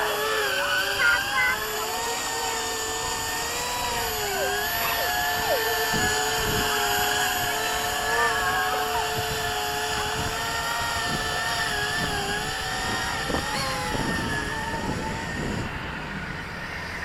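An eflite V-22 Osprey RC model aircraft flies after a repair, its steady motor whine holding with wavering pitch shifts as it passes, a continuous moderately loud drone throughout with no voices.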